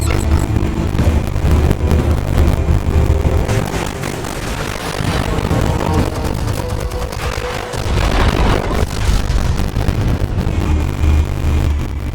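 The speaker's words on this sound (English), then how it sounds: "Explosives armed. Fire when ready." Explosives detonate in a Batman story scene, making a loud, sustained rumbling roar with dense crackling debris that swells and lingers without a break.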